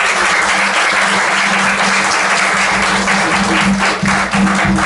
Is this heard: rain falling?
no